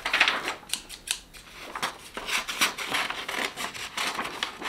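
Quick crisp snipping and rasping strokes in an irregular rhythm, close by and fairly quiet, like scissors cutting through paper or material.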